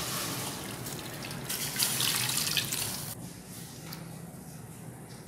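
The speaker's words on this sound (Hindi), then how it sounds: "सबसे पहले पानी ऐड करें" Water is poured steadily into a pan for sugar syrup for shakarpara, a steady close splashing rush that eases slightly toward the end, with no talking.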